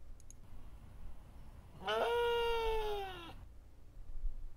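A person imitates a goat's bleat: one drawn-out, quavering cry lasting over a second against a quiet background.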